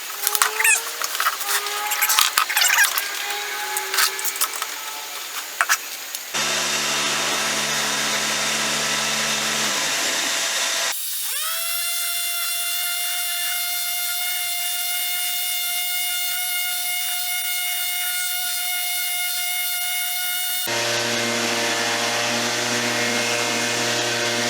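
A power sander runs on a boat hull, giving a loud sustained mechanical whine in several steady stretches, with clattering scraping at the start and abrupt shifts in pitch between sections.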